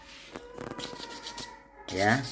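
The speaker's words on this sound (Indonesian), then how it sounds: "satu persatu kita amplas telurnya" Clay-coated salted eggs being sanded one by one, brief scratchy rubbing strokes up close, followed by a short burst of voice near the end.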